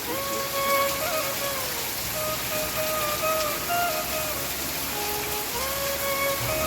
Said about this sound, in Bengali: ঝমঝমিয়ে বৃষ্টি হচ্ছে বৃষ্টির আওয়াজটা শুনতে বেশ ভালো লাগছে